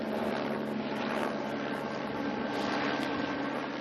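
A helicopter carrying slung survey instruments beneath it flies over land, its rotor and engine noise a loud, continuous broadband roar with a faint rhythmic chop throughout.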